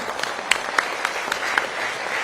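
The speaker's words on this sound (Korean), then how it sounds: "우리 박근혜 대통령님께 다시 한 번 더 뜨거운 박수 보내주시기 바랍니다" An audience applauding at a Korean political gathering honoring former president Park Geun-hye, steady dense clapping with a few sharper claps, fairly loud and close, with no speech over it.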